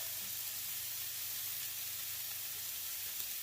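Filet steak sizzles steadily in a hot cast iron skillet, a continuous close, loud hiss with no talking over it.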